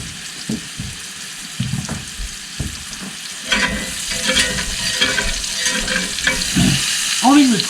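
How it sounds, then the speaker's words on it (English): Stuffed cheeseburgers fry in a pan with a loud, greasy sizzle, first broken by scrapes and clunks of a spatula, then swelling into a continuous close hiss toward the end. "see that buttery, delicious, greasy sizzle"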